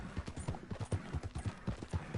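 Horse hooves galloping in the video game Red Dead Redemption 2 online, a steady, even clip-clop rhythm of quick close strikes running throughout at moderate loudness.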